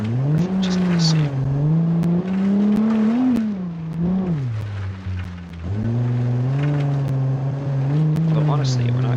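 Car engine in a driving video game, droning steadily with rising and falling pitch as it revs and shifts, loud and continuous with a brief dip mid-run before climbing again.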